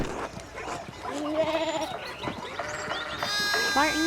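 Sheep bleat repeatedly, a few wavering cries in a row, amid sound effects from the video game Pentiment and some background noise.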